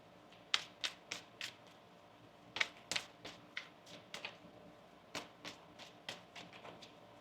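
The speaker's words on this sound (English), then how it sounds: "One more shuffle here." Tarot cards being shuffled in quick riffling bursts, a cluster of crisp flicks, a pause, then more, close and fairly quiet.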